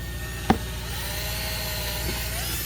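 A power drill with a 1/8 inch bit bores into melamine on an RV cabinet, a sustained close motor whine with a sharp click early on and a brief bump near the end.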